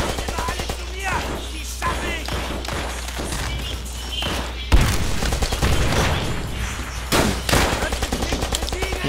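Dense automatic and single gunfire from a World War II shooter game, Call of Duty: World at War, with rapid bursts and sharp reports crowding the whole stretch and a louder burst near the middle.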